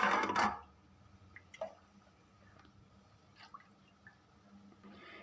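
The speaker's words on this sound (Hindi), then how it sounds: "2 कप दूध के ऐड करने हैं" Milk is poured into a pan of water and sugar to make syrup for semolina halwa: a brief, close splashing rush at the start, then only faint drips and small kitchen clinks.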